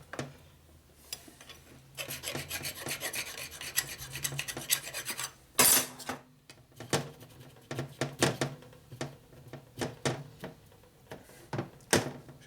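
Metal file rasping burrs off aluminum parts from a 1976 Harley-Davidson Shovelhead 4-speed transmission, with steady scraping strokes for two seconds, then a run of sharp, separate rasps and knocks close by.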